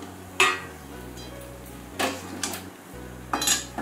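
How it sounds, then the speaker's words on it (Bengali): Boiled potato pieces being added to a pot of chicken curry made with country chicken, heard as three distinct metallic clanks of a utensil against the pot over a quiet background. "এই পর্যায়ে আমি সেদ্ধ আলুর টুকরোগুলো দিয়ে দিচ্ছি।"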